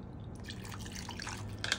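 Half a cup of water poured in a kitchen while cooking a crockpot chicken and rice dinner: a soft, close trickle and drip, splashing a bit louder at the end, with no talk.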